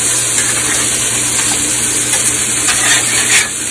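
A ribeye steak sizzles hard in a cast iron pan just after being flipped: a loud, steady frying hiss with small crackles, with no talking.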